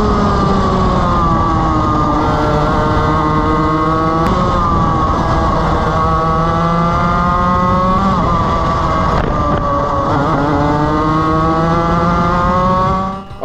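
Onboard racing kart engine howls loudly and continuously, its pitch rising and falling as the kart accelerates and brakes through corners, with no voices over it.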